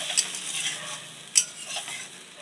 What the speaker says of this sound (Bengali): আমার মশলাটা কিন্তু কষানো হয়ে গেছে, আমি এগুলো জল দিয়ে দেবো। আমি জল দিয়ে দিলাম।